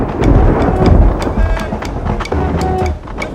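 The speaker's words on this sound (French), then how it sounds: "soudain la pluie se mêle à la fête." Tropical rain pours down in heat above 30 degrees, with broad hiss and low rumbles of thunder running steadily throughout, loud and close.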